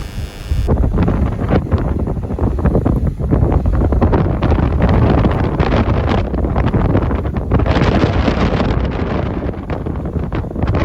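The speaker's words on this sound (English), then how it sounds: "This wind's crazy." Strong wind roars and buffets the microphone at a beach during sea fishing with rods and heavy leads, a loud, continuous rush that never lets up across the whole stretch.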